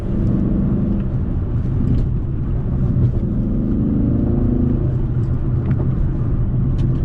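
A Dodge Charger SRT8 with its 6.1 V8 rumbles steadily close by, a deep, throaty drone that swells slightly in the middle and holds loud throughout, with no voices.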